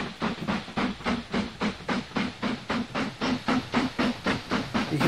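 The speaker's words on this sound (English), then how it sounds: "You can hear the train puffing away." Rhythmic steam locomotive chuffing in a train simulation game, a steady run of about eighteen loud, evenly spaced puffs with hiss between them, no voices.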